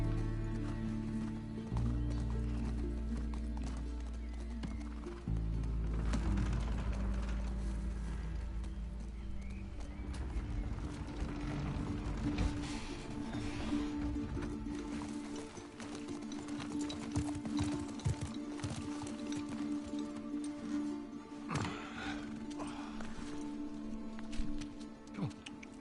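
Horse hooves clop and a horse whinnies in The Last of Us Part II, with game effects around them: a rhythmic gallop of hoofbeats and neighing over music and ambience that run throughout.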